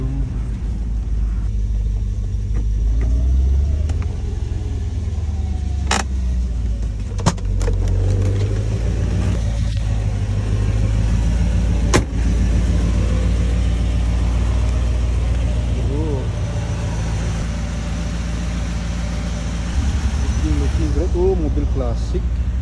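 A 1983 Mercedes 500SEL that had sat unused for a month runs with a steady, deep engine rumble throughout, a few sharp clicks over it, while people talk nearby.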